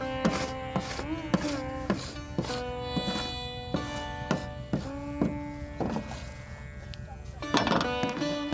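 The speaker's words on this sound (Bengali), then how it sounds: "রস থেকে গুড়ে রূপান্তরিত হয়, যা খুন্তির সাহায্যে ওলট পালট করে কড়াইয়ের মাঝখানে জমাট করে রাখেন" A metal spatula scrapes and knocks against a wok of thickening date jaggery, giving repeated ringing clanks at an uneven rhythm, close and fairly quiet.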